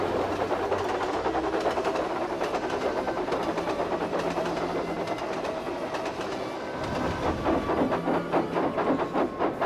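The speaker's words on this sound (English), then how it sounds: "As they puffed through the Sudrian countryside, Rosie spoke first" A steam train puffs through the countryside as a story sound effect, with rhythmic chuffs and hissing steam repeating steadily and close over a clattering rail rhythm.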